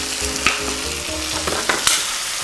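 Kimchi fried rice sizzles loudly in a buttered pan, with a steady crackling fry broken by sharp scraping stir strokes and clatter of the spatula against the pan, close up and with no talking.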